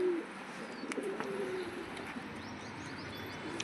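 A pigeon, a breeder Jethia pigeon, cooing softly nearby, a low throaty coo early on, with faint bird chirps and ambient noise around it.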